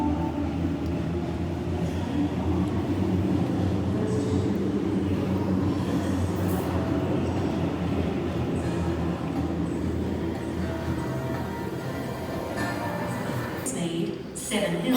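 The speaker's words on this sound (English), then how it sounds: "I'm gonna be catching that train. All stations to Penrith." A Sydney all-stations train to Penrith rumbles at North Sydney station, a steady rolling drone of wheels and motors on the platform with brief higher screeches and station ambience, a voice speaking now and then over it.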